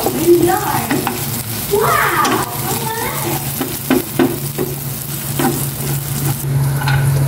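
Eggplant omelette frying in hot oil with garlic, a steady sizzle under repeated scraping and stirring strokes, with people talking nearby.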